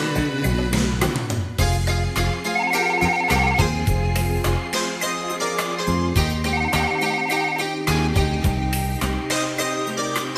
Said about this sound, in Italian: Sta squillando il telefono.